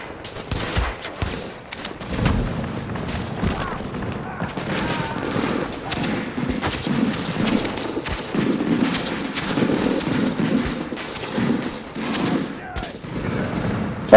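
Gunfire in the video game The Division, a steady rattle of shots and bursts going on throughout at moderate loudness, fairly dense and continuous, with faint talk underneath.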